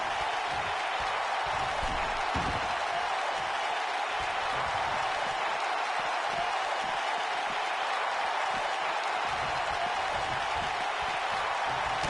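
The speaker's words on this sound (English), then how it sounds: "This capacity crowd starting to sense the end is near" A capacity arena crowd roars and applauds without a break in the WWE 2K19 wrestling video game, a dense, loud wash of noise that holds level throughout.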